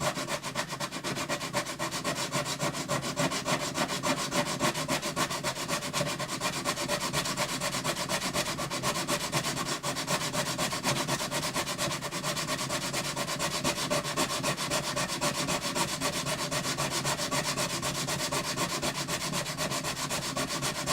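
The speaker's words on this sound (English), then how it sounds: "I need to sand that entire wing too." Steady abrasive sanding on the bridge wing of a Yamaha FG180 acoustic guitar, a continuous close rubbing scrape that runs without pause and stays loud and even throughout.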